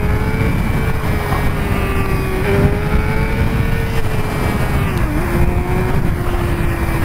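A Suzuki GSX-R motorcycle rides on the road behind another rider. A steady, close engine drone with a clear humming tone sits over heavy wind rumble throughout, the pitch dipping briefly near the end.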